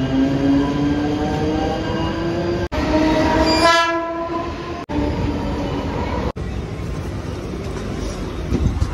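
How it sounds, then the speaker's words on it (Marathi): A suburban local train rumbles steadily along the tracks arriving at platform 1 at Kurla station, with a long horn blast sounding midway before the rolling noise carries on. "क्रमांक 1 वर आलेली लोकल"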